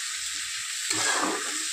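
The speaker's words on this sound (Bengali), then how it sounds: "আদা রসুনটা দিয়েও একটু কষিয়ে নেব।" Ginger garlic paste frying in a pan gives a steady close sizzle, which swells briefly as the paste is stirred midway.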